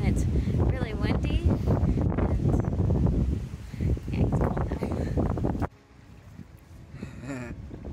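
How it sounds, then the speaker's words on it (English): Strong wind blows across a campsite by a 13ft Burro camper trailer under cloudy skies, a loud continuous buffeting rush against the microphone that drops off sharply partway through, with voices talking over it. "there's a lot of clouds and it's really windy"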